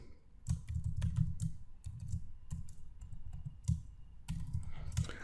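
Typing on a computer keyboard while writing code: quick bursts of close, crisp key clicks with brief pauses between runs, no talking.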